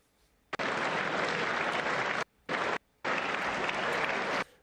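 Applause from an audience clapping for a leader, loud and dense, breaking off briefly twice before resuming and then stopping.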